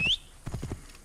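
A horse's hooves clip-clop a few times in the video game Assassin's Creed Origins, faint and quick, following a short high tone at the start.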